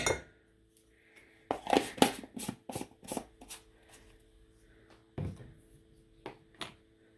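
Metal measuring spoons clinking and rattling up close while a tablespoon of cornstarch is scooped, a quick irregular run of light clatters and taps with short pauses between.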